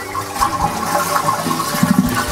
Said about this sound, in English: Then we're going to flush the toilet, let all the water flush out of the tank.